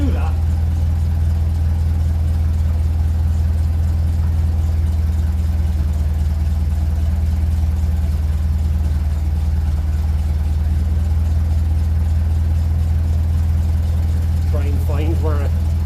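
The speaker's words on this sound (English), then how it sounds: "Just listening to the exhaust, there's a odd little pop out of it." A 1957 Ferguson 35 tractor running on TVO idles in a steady, loud low rumble throughout, with a small irregular pop from the exhaust near the end.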